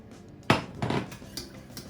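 A metal pan of egg custard mixture for Portuguese custard tarts is set down on a kitchen hob with one sharp clank, followed by softer scraping and clinking of cookware.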